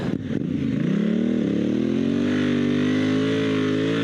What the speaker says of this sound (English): See the amount of forward momentum that this bike gets